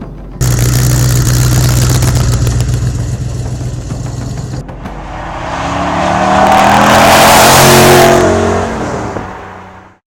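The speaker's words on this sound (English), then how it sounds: "The engine note, it really is a buzz." A De Tomaso sports car with a big American engine gives a loud, buzzy, steady engine drone up close, then the note drops and swells into a harsh, rising roar before cutting off abruptly.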